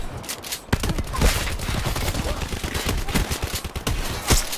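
Rapid gunfire in Call of Duty Blackout, dense bursts of shots cracking close and loud in quick succession, with a few heavier blasts standing out.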